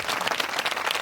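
An audience at a Christian revival meeting claps together in a dense, steady burst of applause, loud and close, with no talking over it.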